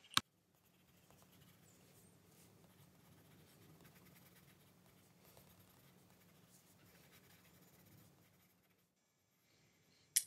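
A pencil makes soft, continuous scratchy strokes on paper while a landscape drawing is built up with marks, quiet and close, bracketed by a couple of brief taps.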